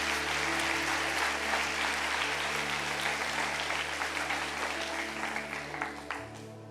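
Congregation at a church service applauds loudly and steadily for the whole stretch, dense clapping over a sustained organ or keyboard chord, tapering slightly near the end.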